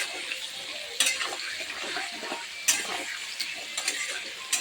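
Potatoes with turmeric frying in a pan, a steady high sizzle with occasional sharper scrapes and clinks of a spoon stirring against the metal, close by and with no talking.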